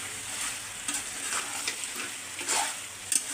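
Spiced potatoes with ground black and white cardamom fry in a pan, giving a soft, steady sizzle broken by a few louder scrapes and clinks of stirring.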